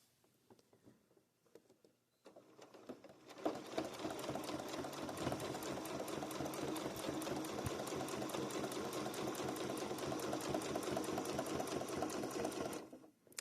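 A sewing machine stitches a blanket stitch binding in black thread, running in a fast, steady rhythmic patter up close for about nine seconds after a few quiet handling sounds, then stopping.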